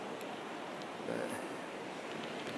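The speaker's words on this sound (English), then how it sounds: "The waves here generally are not that big," Soft, steady rush of ocean surf at Cherry Grove Pier in North Myrtle Beach, South Carolina, with small waves breaking faintly in the distance under light wind noise.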